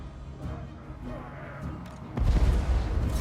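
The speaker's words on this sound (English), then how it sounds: "Cannon!" A heavy cannon boom bursts out partway through, followed by a dense rumbling roll of gunfire and impacts in the Dwarfs video game, over a steady background of battle noise.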